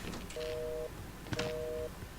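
A telephone in the horror game Outlast, left off the hook, sounds two steady electronic tones, each lasting about half a second, with a short gap between them, over a low background rumble.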